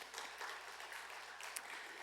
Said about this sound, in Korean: 여러분들 박수로 좀 한번 격려해 주시고